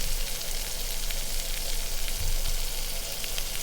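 Soy sauce sizzles and fries steadily in a hot pan with filet mignon juices over medium-high heat, a continuous close crackle holding even throughout.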